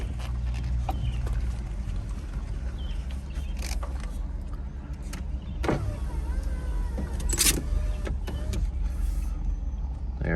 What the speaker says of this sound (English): I'm putting up the window.